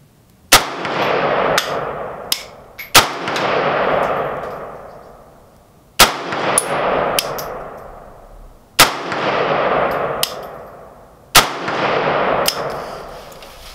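A Century Yugo M70ab2 AK-47 rifle fitted with a slant muzzle brake fires about five loud, sharp single shots outdoors, each followed by a long rolling echo, with a few fainter metallic clinks between.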